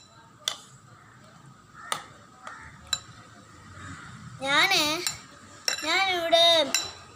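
A spoon stirs thick curd in a bowl, giving a few sharp, separate clinks against the side spaced about a second apart, followed by a person talking.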